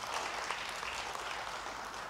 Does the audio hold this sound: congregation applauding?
yes